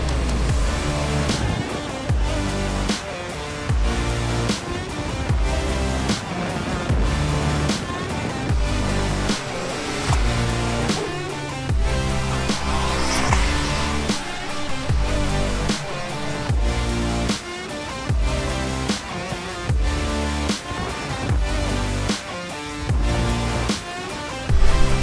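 A high-performance off-road side-by-side UTV, a Can-Am Maverick R or Polaris RZR Pro R, roars continuously with the engine loud and close, revving and surging with rhythmic pulses throughout and no pauses.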